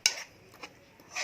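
A spoon stirs a pot of beef rendang with coconut milk, giving a quick metallic clink against the pot, then a softer scrape and another clink at the end.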